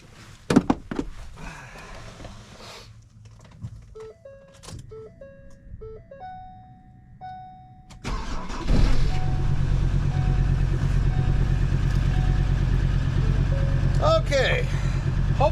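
A 2019 Ford Transit van's engine cranks and catches, then settles into a steady, loud low rumble of idling, after earlier door thunks, dashboard chimes and beeps; a person speaks in the early part.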